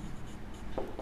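Close, quiet strokes of writing on a board during a Class 11 maths lesson on mathematical induction, with a brief burst of scratching near the end and no voice.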